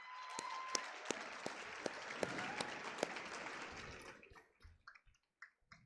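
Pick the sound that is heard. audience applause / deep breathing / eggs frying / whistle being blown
audience applause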